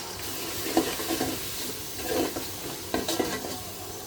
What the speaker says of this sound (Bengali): খিচুড়ির মশলাটা কষানো হয়ে গেছে।